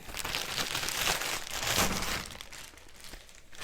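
Continuous crinkling and rustling of nylon-like plastic packaging as a parcel of books is unwrapped up close, in uneven bursts of tearing and crumpling.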